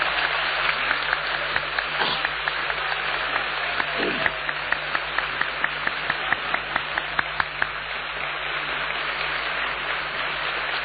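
An audience claps at a banquet, a steady wash of applause with scattered sharper individual claps running for about eleven seconds with no voices over it.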